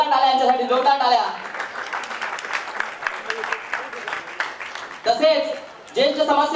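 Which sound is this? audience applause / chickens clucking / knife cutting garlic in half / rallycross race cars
audience applause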